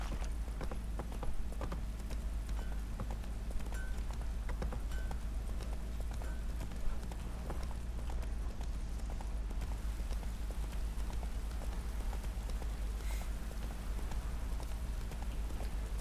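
A horse gallops in the video game The Witcher 3, with rapid, rhythmic hoofbeats that continue steadily over a low, constant rumble of in-game ambience.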